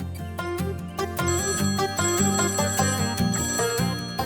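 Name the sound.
telephone ringing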